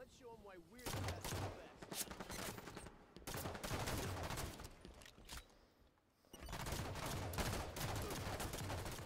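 Rapid bursts of video game gunfire crackle through most of the stretch, with one brief lull, while players talk over it.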